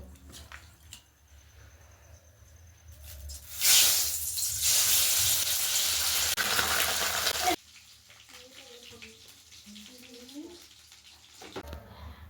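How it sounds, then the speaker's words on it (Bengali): Pabda fish rubbed with salt and turmeric hit hot oil in a pan, setting off a loud burst of hissing sizzle for about four seconds that then cuts off. Faint voices and kitchen sounds are heard before and after. "এবারে আমি মাছগুলো সুন্দর করে ভেজে তুলে নেব"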